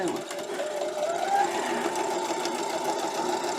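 A domestic sewing machine with a quarter-inch presser foot runs steadily while stitching a quilt seam on a panel quilt, a continuous close whirring motor hum with a rising pitch partway through.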